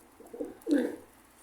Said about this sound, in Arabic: طيور كلها مال بغداد